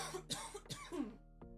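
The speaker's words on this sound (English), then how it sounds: "Hey, clear my throat." Someone coughs and clears their throat in a few rough, close bursts, ending with a short hum-like voiced sound.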